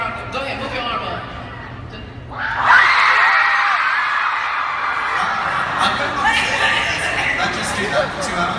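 A panel audience at VidCon 2015 erupts into loud screaming and cheering as a panelist raises his arm, a sudden burst after quieter chatter, sustained and dense for several seconds with voices mixed in.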